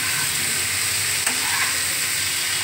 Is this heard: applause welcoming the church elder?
no